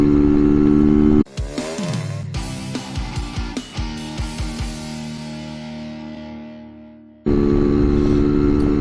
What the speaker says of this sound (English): I'm out and about on touring my Lambretta